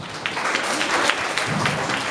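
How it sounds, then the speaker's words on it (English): Brief audience applause at a school award ceremony, a moderate, steady patter of many hands with scattered sharper claps, heard at a modest level. "Please continue with your applause."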